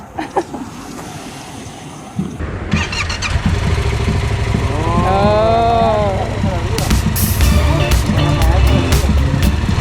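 A Yamaha MT-03 motorcycle starts up and revs during a test ride, its engine note rising and falling in pitch before settling into a loud, steady run. People talk over the engine throughout.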